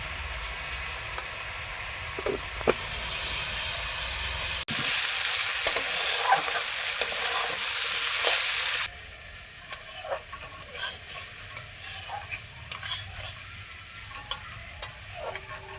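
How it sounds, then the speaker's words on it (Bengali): Spiced potatoes and carrots frying in a pan, seasoned with sugar, cumin powder and turmeric, sizzling steadily under intermittent stirring scrapes, louder and hissier in the middle stretch, no voices. "সমস্ত কিছুকে নাড়াচাড়া করে নিয়েছি"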